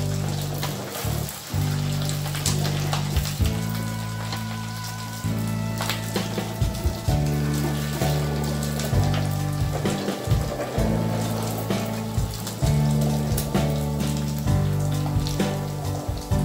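Medu vada deep frying in hot oil over a medium flame, a dense, continuous crackling sizzle like rain on a surface that runs steadily throughout, with a low steady hum underneath.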